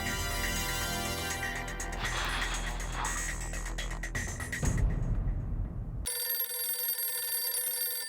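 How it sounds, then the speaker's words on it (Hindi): Dense music from the Hindi sitcom Taarak Mehta Ka Ooltah Chashmah gives way to a sharp crash, then a telephone rings with a bright, sustained electronic tone near the end. "पोपटलाल का फोन"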